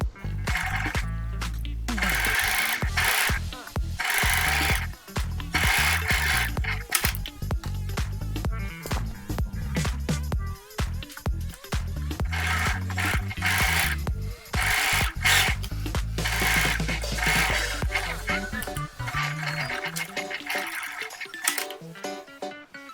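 A sewing machine stitches a 1 cm seam along the side of a tenugui cloth eco bag. The motor whirs loudly and continuously for most of the run, then stops near the end.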